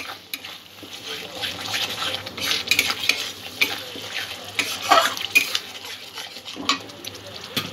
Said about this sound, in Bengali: সব কিছু আবারও একটু ভালো করে মিক্স করে নেব।